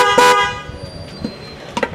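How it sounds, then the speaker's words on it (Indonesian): A car horn gives a short, loud honk, then quieter scattered clicks and a brief second tonal blip follow. "Suara klakson?"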